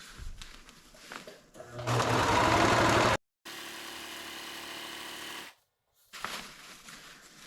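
A sewing machine stitches a seam in tent fabric for a motorcycle tent, giving two sustained, close whirring runs of a few seconds each, separated by brief silences, with quieter handling noise before and after.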